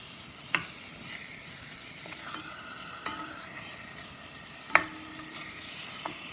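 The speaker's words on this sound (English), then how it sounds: "I have put some spices on this meat. And I'm just browning it before we make the stew." Spiced beef stew meat browns in a pan over high heat, a low steady sizzle punctuated by a few sharp scrapes and clacks of a utensil turning the pieces.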